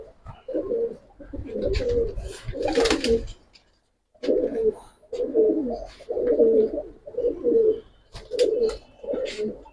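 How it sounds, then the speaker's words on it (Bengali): Giribaz and fantail pigeons in a loft coo close by, repeating rounded, throaty phrases in steady bursts with a short quiet gap partway through. "আর এটা একটা পাঙ্কি কবুতর"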